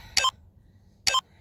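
Workout interval timer at a HIIT session sounding two short electronic beeps about a second apart, clear and fairly close, with faint room noise between them.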